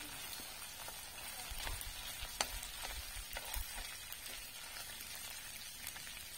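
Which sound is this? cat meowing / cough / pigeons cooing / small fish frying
small fish frying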